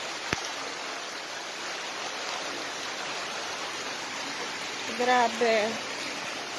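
Flash flood water rushes past a flooded house in Ampatuan, Maguindanao del Sur, a constant loud broadband roar; a voice speaks briefly near the end.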